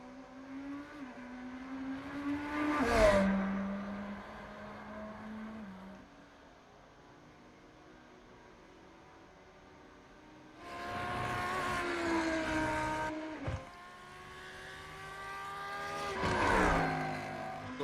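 A Lamborghini GT3 race car engine in iRacing at Le Mans revs and shifts gears in sweeping bursts, fading between pulls, with loud acceleration near the start and end.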